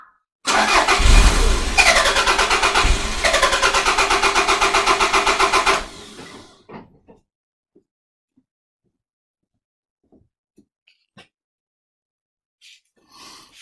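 A Toyota MR2 engine cranks for about five seconds, a loud rapid rhythmic churn, then cuts off abruptly and leaves near silence broken by a few faint clicks and ticks.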